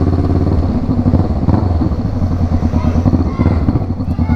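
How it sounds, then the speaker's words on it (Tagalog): A big bike motorcycle engine runs close by, a loud throbbing chug with a rapid, even pulse that holds steady throughout. "Ito yung big bike ko"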